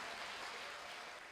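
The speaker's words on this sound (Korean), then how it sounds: "참석해 주신 교수님들께 다시 한번 큰 박수 부탁드립니다." Audience at the 2017 POSTECH matriculation ceremony applauding the attending professors, a short, even wash of hall clapping, quiet and distant.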